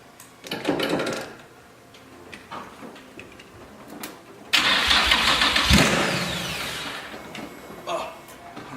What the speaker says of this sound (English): The car is running now.